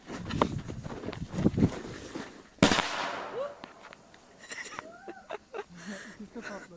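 A firecracker buried in the ground explodes with one sharp, loud bang amid excited voices and crackling, followed by fizzing and lingering chatter.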